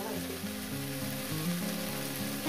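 Water spinach and shrimp fry in a pan with a steady, quiet sizzle that runs unbroken throughout.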